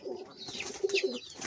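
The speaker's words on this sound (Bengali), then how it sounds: "এটা একটা মাদি পায়রা" A female pigeon coos close by, a few soft throaty coos in quick succession with faint background rustle.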